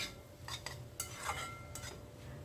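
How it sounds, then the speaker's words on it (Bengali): Snake gourd with grated coconut and a little sugar is slowly stir-fried on a low flame. A spatula makes soft, intermittent scraping strokes over a quiet, gentle sizzle, close by and with no voices. "এবার নেড়ে চেড়ে একদম লো ফ্লেমে আস্তে আস্তে কষানো হবে"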